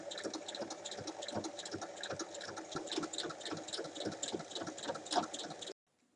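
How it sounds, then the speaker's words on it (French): A sewing machine stitches along both sides of a fabric bag strap, a steady rapid mechanical chatter running close and fairly quiet for nearly six seconds before stopping abruptly. "Et maintenant, il faut venir piquer de chaque côté."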